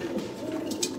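Sialkoti pigeons coo softly in a short, continuous low murmur, seen from a distance, with a couple of faint higher flutters or chirps near the end.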